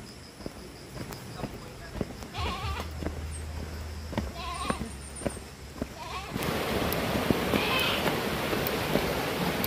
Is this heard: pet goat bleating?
yes